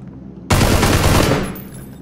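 Gunfire in the video game PUBG erupts suddenly as a loud, dense automatic burst, holding for about a second before trailing off into quieter ambience; no one talks.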